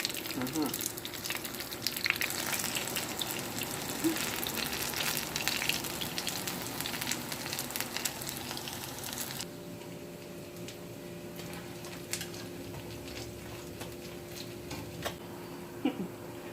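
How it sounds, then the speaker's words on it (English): Salt fish fritters sizzle and crackle steadily in hot oil, a constant hiss with scattered pops, quieter in the second half. "Frying nicely."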